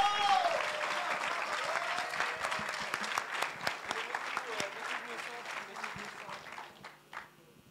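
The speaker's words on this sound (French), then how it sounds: "On peut les applaudir encore une fois." A live-event crowd gives sustained applause, dense clapping at moderate distance with voices and cheers mixed in, gradually tapering toward the end.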